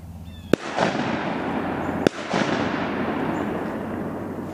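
Two sharp shotgun blasts fired at ducks during an early-season duck opener in Virginia, each a loud, close crack about a second and a half apart, followed by a rolling outdoor echo and background hiss.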